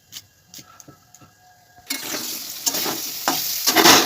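Potatoes frying in hot oil, with quiet clicks and light taps from cooking before a loud, steady sizzle breaks in partway through and carries on, crackling up near the end.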